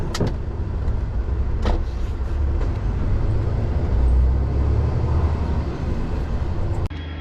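A truck pulling up at a yard to drop a trailer, its engine a steady low rumble with a few sharp knocks and clatters, ending in a short thud, loud and close with no talk.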